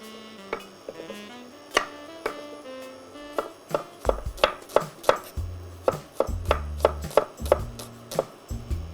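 A knife chops onion on a board while stuffing is prepared in a kitchen, starting with a few scattered cuts and settling into a steady, fairly quick run of crisp, close taps over background music.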